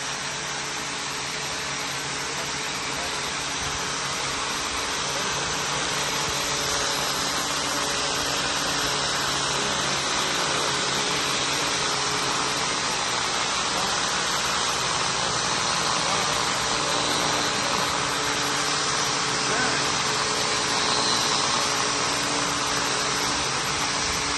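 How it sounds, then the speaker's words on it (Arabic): A heat gun blows hot air across a furniture polish coating on a tabletop, a steady loud broadband roar that holds throughout, with faint talk in the background. "هو دلوقتي بيسخن على البولش"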